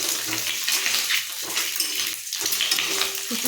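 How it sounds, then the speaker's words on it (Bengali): An egg frying in hot oil in a home kitchen, a steady crackling sizzle with irregular spits and pops, fairly close and continuous, with no talking heard. "এই যে ডিমটা ভাজছি ভেজে নিচ্ছি লাল লাল করে হালকা করে"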